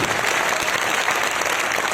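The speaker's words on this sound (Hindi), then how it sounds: "इनके लिए जोरदार तालियां होना चाहिए" An audience at a business meeting applauds new achievers, a dense, steady wash of clapping that holds evenly across the whole two seconds with no voices above it.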